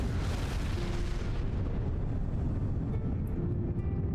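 A deep, continuous earthquake rumble in Final Fantasy XIV: Dawntrail, a loud low roar that stays steady while its upper hiss fades after the first second, with no speech.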